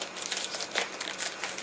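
Newspaper being crumpled and wadded by hand for a large sculpture, a close, crisp, continuous crinkling with brief louder crackles.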